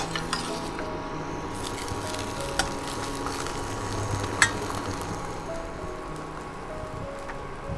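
Paratha frying in a pan while more dough is being rolled, a steady soft sizzle running throughout with occasional light clinks of utensils, fairly quiet and close.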